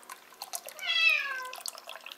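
A Bengal cat gives a single drawn-out meow, fairly close, in a kitchen while soup is being made, with faint clinks and kitchen noise around it.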